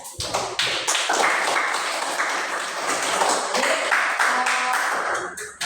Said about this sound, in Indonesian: jadi tepuk tangan untuk kelompok ini